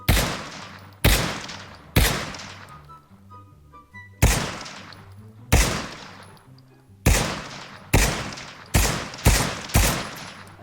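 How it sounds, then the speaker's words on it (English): An SKS semi-automatic rifle with an ACOG sight fires in the VR shooter Pavlov VR, with eleven sharp, loud shots at an uneven pace, each followed by a ringing decay and a gap before the next. "that is the new SKS. It's rather interesting design, and it's semi-automatic as you would expect."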